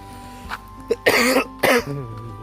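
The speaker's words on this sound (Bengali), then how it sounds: "আমার ঠান্ডা লেগে কাশি হচ্ছে" A person with a cold, outdoors beside bamboo groves near Tapoban Rameswar Temple, clears their throat a couple of times, then lets out two harsh, close coughs in quick succession, alone with no talking.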